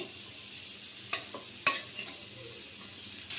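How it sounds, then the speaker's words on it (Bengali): Cauliflower and bean stir-fry with shrimp being stirred in a pan, a few sharp scrapes and clicks of the spatula over a faint steady sizzle, fairly close and without talk. "এখন নেড়ে চেড়ে দিচ্ছি আর চিংড়ি মাছের সাথে ভাজিটাকে ভালোভাবে মিশিয়ে নিচ্ছি"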